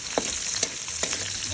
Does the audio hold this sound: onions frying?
yes